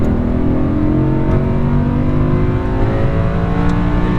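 A 2017 Audi R8 V10 Plus accelerating hard on a race track, its engine a loud, continuous, rising roar heard up close from the cabin, with no talk over it.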